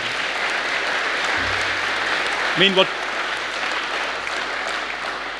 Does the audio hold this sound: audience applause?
yes